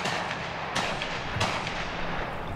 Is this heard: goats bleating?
no